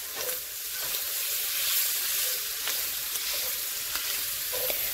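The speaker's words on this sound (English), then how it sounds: "we're going to go ahead and give this a stir" Food fries in a pan for a 30-minute pasta dish, a soft continuous sizzle with a few scattered scraping stirs, moderately quiet and close.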